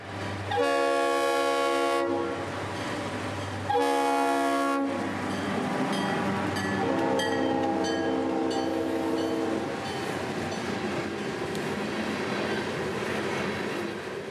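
Two long, loud train horn blasts give way to a freight train rumbling by close in Fort Pierce, Florida, with squealing wheels and clanking cars.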